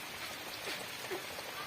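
Heavy rain pours down steadily in the village of Garh Madhupur, a dense, even hiss of drops hitting surfaces with no pauses, fairly soft and distant, and no voices over it.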